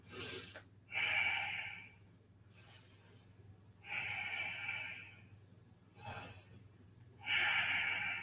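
Slow, deep breaths during a yoga forward fold, with about three strong airy exhalations alternating with softer inhalations in an even rhythm, close and fairly loud over a low background hum, no talking.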